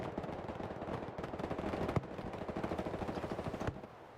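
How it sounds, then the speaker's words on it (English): Fireworks go off at an end-of-match party, a fast crackling string of sharp pops that stays fairly faint and steady, then cuts off abruptly near the end. "Fireworks going off."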